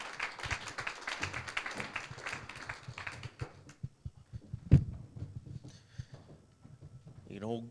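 An audience applauds panel guests at an investment talk, a dense patter of clapping that thins out and fades while someone speaks over it.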